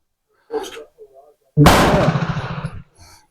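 Rifle fire from an M4 being sighted in with a Crimson Trace green laser: one loud, sharp report with a long ringing tail, preceded by a brief murmur of talk and followed by a faint voice.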